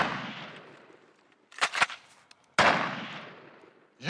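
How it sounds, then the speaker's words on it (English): Rubber bullets are fired at a bear in a town where bears and people live side by side, with two sharp, loud reports a second apart, each followed by a long fading echo. "The rubber bullets sting, but won't penetrate the bear's hide."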